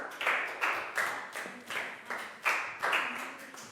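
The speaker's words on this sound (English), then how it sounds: "big round of applause for Pat" A small group of schoolchildren claps in a classroom during a Year 4 health lesson, giving about eight distinct rhythmic bursts of clapping that rise and fall one after another, close and fairly loud.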